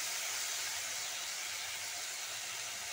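Fish head frying in a pan gives off a steady, dense hiss that holds level and unbroken throughout, close and fairly loud with no talking.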